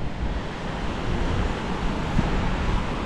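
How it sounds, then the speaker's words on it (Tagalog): Gentle sea waves wash at a beach in Kasiguran, a steady broadband surf roar mixed with some wind buffeting the microphone, continuous and moderately loud with no voices. "hindi na ganun kalakas yung alon"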